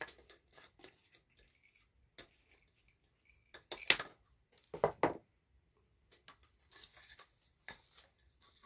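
Scissors snipping through soft foam clay, a scattered run of short close cuts with quiet pauses between them and a louder burst of snips midway, with no voices.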